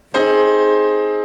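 A single loud forte piano chord played with a heavy weighted touch, striking sharply and then sustaining with slow decay, heard alone and close.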